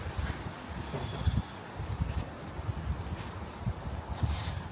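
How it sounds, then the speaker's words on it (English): Wind gusting outdoors during a timber Victorian conservatory roof replacement in Leigh, heard as a faint, steady low rumble and buffeting across the whole stretch with no talking. "It's a bit windy."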